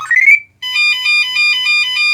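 A rising electronic chirp, a brief pause, then a steady high-pitched pulsing low-voltage alarm tone from a Flysky PL18 radio transmitter, repeating in an even rhythm, clear and close.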